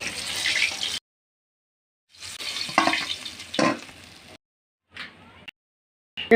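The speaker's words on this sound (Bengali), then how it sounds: "মাছ ভাজা হয়ে গেছে লাল লাল করে ভেজে নিয়েছি" Grass carp fish frying in a pan sizzles and crackles in short close bursts broken by silent gaps, moderately loud with no talk.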